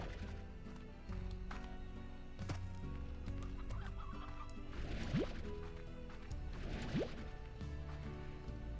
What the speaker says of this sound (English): Okay, so we're gonna get a bunch of these chickens and you're gonna see why.